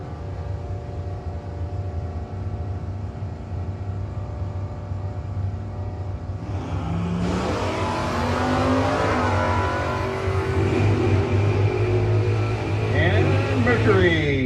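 A Mercury drag car and a long-roof Mopar launch from the line at a drag race. After about seven seconds of quiet idle hum, loud engine roar bursts in and keeps building under faint background sound.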